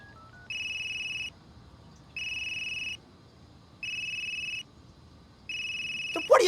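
Mobile phone ringtone sounding in four even electronic bursts separated by short pauses, loud and close, ending with a sharp handling noise.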